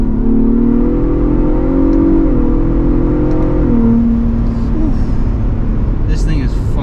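A Ford Bronco Raptor drops to third gear and accelerates hard, its engine roaring loud and steady with rising pitch steps as it pulls, continuous close drone throughout.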